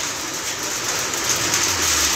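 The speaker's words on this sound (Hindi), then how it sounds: "तेज बारिश में गाड़ियां आप देख रहे हैं किस तरह से गुजर रही हैं" Heavy rain pouring on a road in Udhampur while vehicles pass, a loud continuous hiss with a faint low rumble of traffic building toward the end and no speech.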